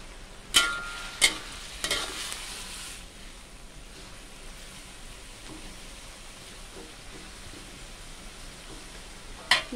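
Papaya is stir-fried with canned fish in a pan: a soft, steady sizzle runs throughout, broken by a few sharp scrapes and clatters of a utensil near the start and again at the end.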